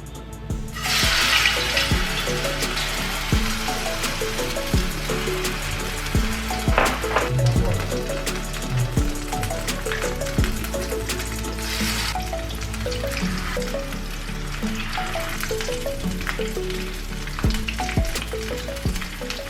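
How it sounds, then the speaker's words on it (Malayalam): Beef rolls dipped in batter deep frying in hot oil, a steady dense bubbling sizzle throughout with occasional clinks, close and loud, no talking. "ഇനി നമുക്ക് റോൾസ് ഓരോന്നായി മാവിൽ മുക്കി വറുത്തെടുക്കാം."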